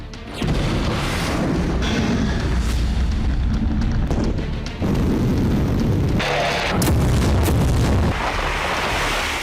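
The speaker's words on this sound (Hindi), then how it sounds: "सुमी में रूसी सेना एक हफ्ते से इसी तरह भीषण विस्फोट कर रही है" Heavy booming blasts from Russian strikes on Sumy roll on almost without pause, loud, dense rumbles with deep low-end weight and a few sharper bursts.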